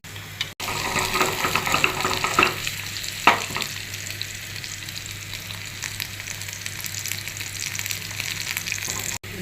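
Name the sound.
tempering spices frying in oil for dal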